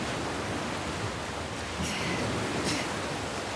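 Steady broadband wash of ocean surf while swimming along the coast in The Last of Us Part II, continuous and fairly loud with two brief brighter swells, no talking.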